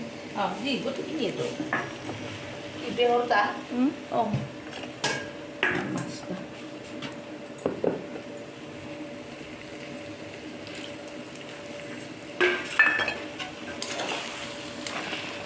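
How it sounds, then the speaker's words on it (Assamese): Mustard paste is stirred into a potato and fish curry in a pan, with soft scraping and a light sizzle in uneven bursts under a steady hum, while a voice talks partway through. "অলপ লৰাই দিছোঁ। এতিয়া লাৰি দিছোঁ।"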